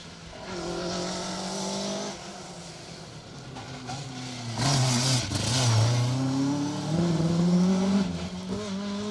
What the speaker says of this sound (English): Alan Horn, Anthony Litchfield threading that Mark II Escort neatly past Brandywell Cottage here.